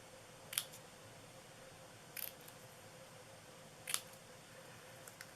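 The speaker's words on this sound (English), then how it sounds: "I am going to just cut them" Scissors snip paper banner ends in three sharp, brief cuts spaced apart, close but quiet over a faint steady background hum.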